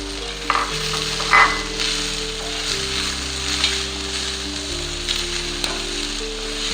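Golden-brown onions frying in a pan for a chicken masala rassa as tomatoes go in, a steady close sizzle with a few sharp splatters near the start, over a low droning hum, no voices.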